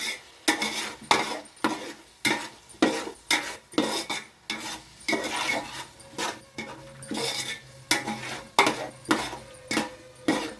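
A spoon scrapes and clanks rhythmically against a metal pot while chicken biryani masala is stirred, roughly a dozen close, regular strokes with faint sizzling beneath.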